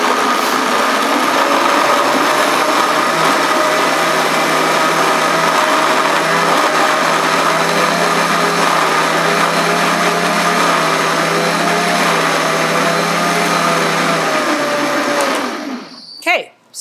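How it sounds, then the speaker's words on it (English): A blender runs loud and steady for about fifteen seconds with a constant motor whine, then cuts off abruptly near the end. "So turn on your blender."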